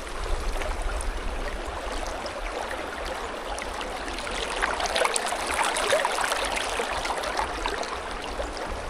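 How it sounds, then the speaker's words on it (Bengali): Water from the Dardara (Shubhradhara) waterfall stream near Kadamdiha, Odisha, rushes and gurgles steadily over rocks, a close, continuous burbling flow with no talk. "দেখো কুলকুল করে বয়ে আসছে জলটা"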